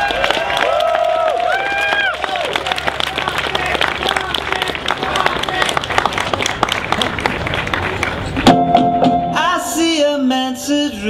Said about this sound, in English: Huge applause because you guys deserve it.